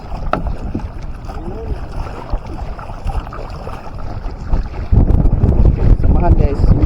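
Gusty sea wind blows across a small fishing boat on open water, a rough, continuous rush that grows noticeably louder and harsher partway through, with splashing underneath.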